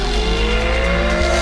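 A Ducati 1199 Panigale superbike accelerates hard off the line at Mugello, its engine note climbing steadily through a single loud, continuous pull with no talk over it.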